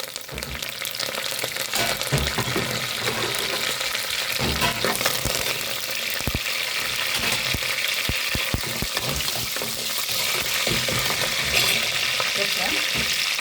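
Curry leaves crackling in hot oil for a village-style paarai fish curry, a dense continuous sizzle with sharp pops and stirring knocks, close and loud throughout.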